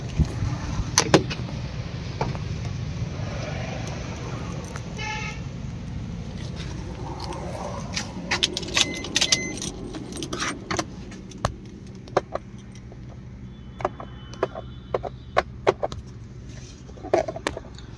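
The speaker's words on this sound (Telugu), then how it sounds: "2 కీస్ ఉన్నాయండి, చూసుకోవచ్చు. రిమోట్ కీసే." Remote keys for a used Maruti Suzuki Swift Dzire or Ertiga jangle and clink in a hand, quiet metallic rattles coming in scattered bursts, close to the mic with faint background hum.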